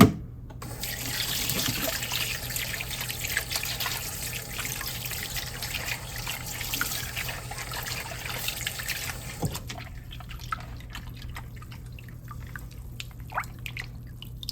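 Seafood for a Cantonese seafood stew is rinsed under a running kitchen tap, a loud, steady gush for about ten seconds. The flow then cuts off, leaving scattered drips and trickles.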